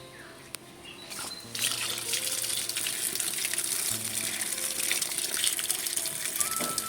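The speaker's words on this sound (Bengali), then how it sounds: "গোটায় পটল ধুয়ে নেব।" Running tap water pours steadily over whole pointed gourds being washed, a continuous broadband gush that swells louder after the first second and stays close and constant, with no talking.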